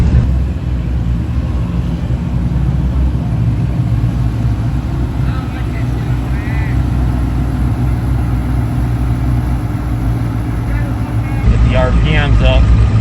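Twin-turbo Cadillac CTS-V engine revving up loudly as the car launches, a steady powerful rumble close by that swells near the end.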